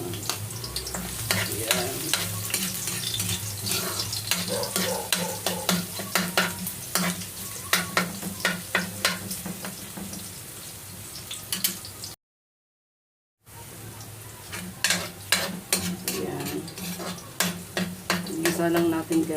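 Garlic sizzles and crackles in hot oil in a pan for pork dinuguan and pakbet, with steady frying hiss and repeated stirring clinks, briefly cut off, then resuming while someone talks over it.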